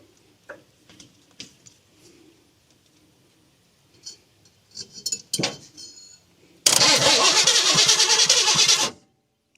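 A 1966 Chevrolet El Camino's starter cranks the engine in a loud, churning two-second burst that stops abruptly. Scattered clicks and light metallic taps come first in the garage.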